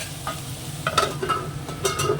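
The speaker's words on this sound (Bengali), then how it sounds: "এবার এটাকে আবার ঢেকে ঢেকে ভাজবো" Vegetables frying in a covered pan, seasoned with a little turmeric and salt: a steady low sizzle with scattered clinks of stirring, close and fairly loud, no voices.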